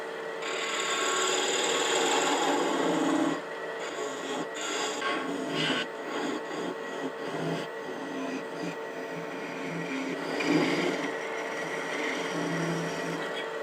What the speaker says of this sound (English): now I'm going to part this off with a skew